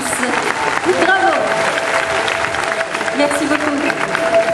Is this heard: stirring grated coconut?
no